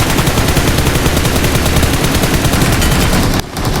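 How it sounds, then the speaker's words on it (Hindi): Rapid automatic gunfire from a PUBG Mobile match on the Livik map, loud and continuous bursts for several seconds before a brief dip near the end. "बाहर से भी फायर आ रहे होते हैं"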